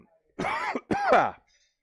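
Two hard coughs in quick succession from a man during a live gaming stream, close to the microphone and loud, with a short gap between them and silence after.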